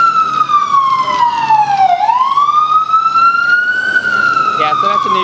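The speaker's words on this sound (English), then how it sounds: "A lot of ambulances." An ambulance siren wails through a New York City street near an outdoor grill, loud and close, its pitch sweeping down and then rising again in a long continuous cry with faint background noise.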